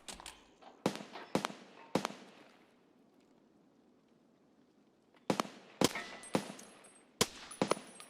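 Gunfire in Escape from Tarkov: bursts of sharp, distant-sounding shots in two clusters separated by a quiet pause, each crack trailing a short echo.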